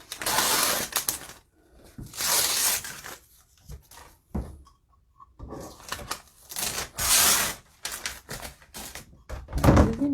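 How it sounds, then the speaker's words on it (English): Backing paper is peeled off rain gear material by hand, giving repeated close, rasping tearing strips of broadband sound with brief gaps between the pulls. "I'm going to work on getting this paper off."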